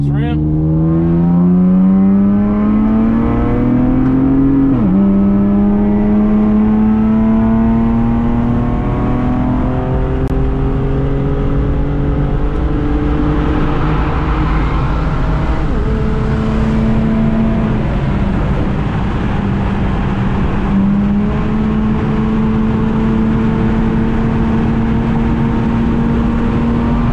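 An Acura TL Type-S accelerating hard up a freeway entrance ramp, its engine rising in pitch through repeated gear shifts with loud, close cabin sound, and brief talking inside.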